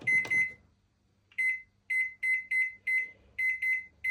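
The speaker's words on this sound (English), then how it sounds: "So that will go in the microwave for 4 minutes." A microwave oven being set and started: a loud thump or clunk as the door shuts, then a pause before a run of about ten short, clean electronic beeps in irregular quick groups, close and clear with no talk.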